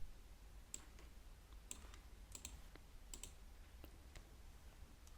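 Quiet, scattered keystrokes on a computer keyboard type out a Gradle assemble debug command, with irregular crisp clicks spaced apart against near silence.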